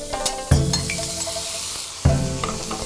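Ginger, garlic and scallion sizzle in hot oil during a stir-fry, a close, steady crackling hiss with two sharper bursts as more food hits the pan.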